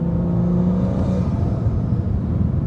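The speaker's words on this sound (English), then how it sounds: "That the turbo flutter and blow off now is absolutely intoxicating." A BMW F30 with the N55 turbocharged engine at Pure Stage 2 tune revs and lifts off, giving a short rumbling engine note with a fluttering whoosh. It is heard close up and with no talking.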